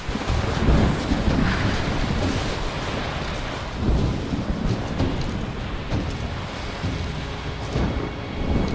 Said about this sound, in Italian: La tempesta si avvicina.